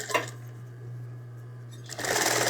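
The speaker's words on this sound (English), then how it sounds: "let me stitch my beak into place" A serger sewing machine runs in two loud bursts at the start and end, stitching a serged edge on a pink-threaded terry cloth flamingo hooded towel, with a steady low motor hum between the bursts.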